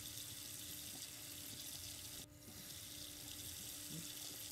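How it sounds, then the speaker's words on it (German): A water tap runs steadily in the video game Paranormal, a continuous broadband hiss of flowing water that briefly dips partway through before resuming, with no talk over it. "Der Wasserhahn läuft."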